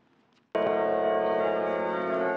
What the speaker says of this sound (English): all over the world, bells mark the precise moment of the end of World War I